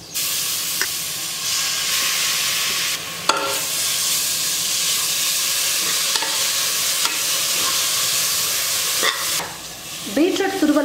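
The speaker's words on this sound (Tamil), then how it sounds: "இப்போ இந்த பீட்ரூட்டை நான் சேர்த்துடுறேன்." Grated beetroot goes into a hot pan for sautéing: a loud, continuous sizzle and hiss, with occasional scraping stir strokes and a clatter near the end.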